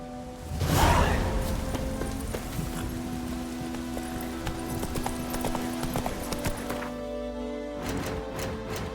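Horse hooves clip-clop in a steady galloping rhythm in The Witcher 3, close and continuous, with a whoosh at the start and game ambience underneath.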